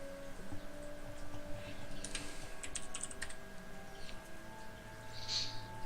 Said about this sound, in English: Keyboard's loud, so I muted the mic.